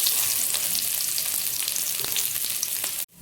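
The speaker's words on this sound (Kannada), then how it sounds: "ಈಗ ನಾನು ಬೆಳ್ಳುಳ್ಳಿನೂ ಫ್ರೈ ಮಾಡ್ಕೊಳ್ತಾ ಇದ್ದೀನಿ." Garlic fries in a pan with a constant close sizzle and faint crackles, steady and loud until it cuts off abruptly near the end, with no voices.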